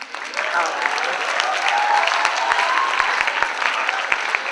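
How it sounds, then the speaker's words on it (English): At a school annual day, an audience gives sustained, fairly loud applause for a faculty member's new doctorate, with a few sharp knocks and faint voices mixed into the steady clapping. "we have to give a big round of applause to Dr. Rachna Shah for getting her doctorate"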